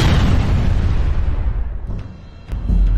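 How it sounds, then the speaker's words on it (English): A huge TNT explosion, billed as the largest ever, lets out one loud, deep blast that rolls and rumbles as it slowly decays, with a few sharp cracks and a fresh swell of low roar near the end. "This is the world's largest TNT explosion"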